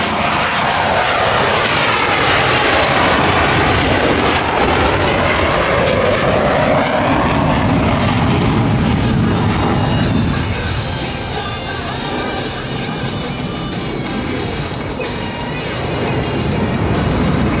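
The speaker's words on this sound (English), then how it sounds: "Blue Angel number 5 will complete the dirty roll on takeoff, while Blue Angel number 6 performs a precise low transition." Blue Angels jets at the Brunswick Airshow in Maine take off in a loud, sustained jet engine roar that stays heavy throughout, easing slightly and then swelling again as the aircraft pass.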